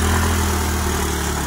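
Scooter engine running steadily after being pushed out of mud, a loud, close, continuous idle hum with no talking.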